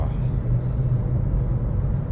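Steady low rumble of road traffic heard from inside a car stuck in a long southbound jam near Balintawak, with a continuous engine drone and no distinct events.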